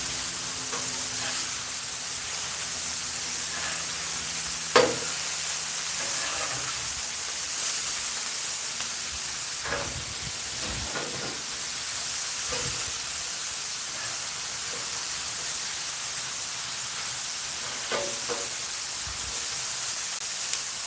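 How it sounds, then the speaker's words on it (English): Smash burger patties sizzling on a hot grill, a constant loud hiss and crackle with occasional sharper scrapes and pops scattered across the span. "But especially on a hot grill like this, these cook incredibly quick."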